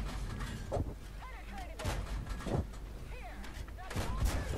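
Cannon shots from a T71 tank in the World of Tanks video game boom out several times at roughly one-second intervals, each a sharp blast with a rumbling tail over constant battle ambience.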